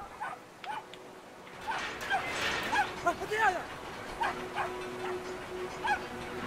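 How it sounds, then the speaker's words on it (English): A big dog in the video game Brothers: A Tale of Two Sons barks and whines in a series of short yelps and whimpers, fairly close, with voices present around them. "Oh, that's a big doggy."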